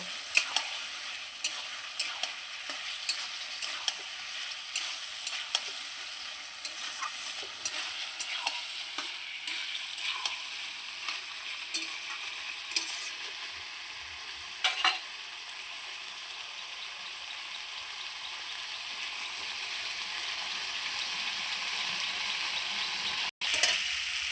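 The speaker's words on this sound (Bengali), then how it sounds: "এইবার আমি ভেজে রাখা ওলটা আর আলুটা দিয়ে দেব। এর মধ্যে আবারও আমি খুব সুন্দর করে একটু কষিয়ে নেব।" Fried elephant foot yam and potato sautéed in spices in a pan: a continuous crackling sizzle with frequent utensil taps and scrapes against the pan, steadier and hissier near the end.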